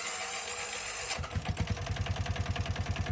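A used two-seater vehicle with a 2019 BS-compliant engine rumbles and catches at about one second, then settles into a steady, close, even-pulsed idle with no talk.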